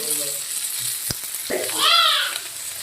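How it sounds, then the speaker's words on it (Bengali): Pomfret fish frying with chili powder, salt and turmeric gives a steady close sizzle, broken by a few sharp utensil clinks and scraping stirs. "এবার আমি ভালো করে কষিয়ে নেবো"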